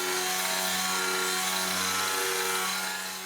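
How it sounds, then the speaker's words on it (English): A grinder scours rust from a vintage car in a South African car graveyard, a loud, steady, close whine and rasp that holds without pause and eases slightly at the end. "I'm using grinder. I'm removing the rust here now."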